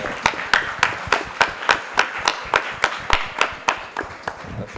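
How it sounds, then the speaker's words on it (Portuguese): Applause for Imaflora from an audience, heard as a sparse series of about fifteen evenly spaced, fairly close claps, like a small group or a few people clapping in rhythm. "Acho que vale até uma salva de palmas novamente para o Imaflora."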